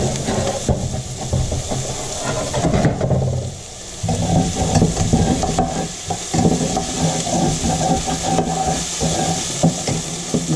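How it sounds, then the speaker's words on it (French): Onions sweat in oil in a pan that previously held fish, a loud, dense, continuous sizzle with a brief dip partway through, close and steady, with no voices. "je vais laisser suer mes oignons"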